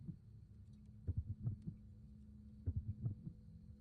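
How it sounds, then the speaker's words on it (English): Springtrap's droning heartbeat cue from the video game FNAF Pizzeria Simulator: low, muffled thumps in two clusters of beats over a constant low hum, with no speech. "Springtrap has a droning heartbeat."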